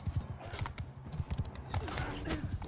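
Horse hooves gallop in quick, close clip-clop beats in Mount & Blade II: Bannerlord, a fast irregular rhythm with a brief whinny-like tone near the end and a player's voice in the background.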